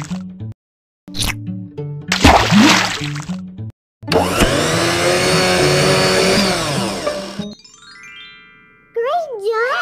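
A kitchen blender whirs loudly for a few seconds while blending fruit into a smoothie, set among short cartoon sound effects and jingles.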